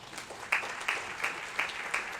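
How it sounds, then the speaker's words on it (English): Moderate applause rises from an audience at a church Advent mission night, fairly soft and even, with a few sharper accents recurring through the patter. "Give them a round of applause."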